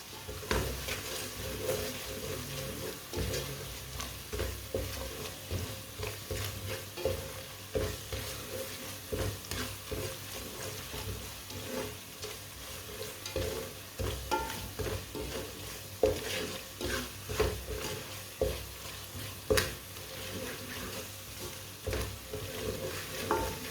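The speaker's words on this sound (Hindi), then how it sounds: "मसालों को 1 मिनट के लिए पका लेंगे। कम आंच पे पकाना मसालों को जलने नहीं देना" Spices fry gently in a pan on low heat for an aloo gobhi dish, a steady soft sizzle with repeated scraping stirs throughout, close by and without talk.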